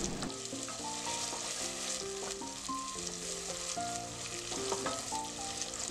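Spice paste with cardamom frying in a pan for a whole moong dal tadka, a steady close sizzle running throughout beneath a bed of melodic background music.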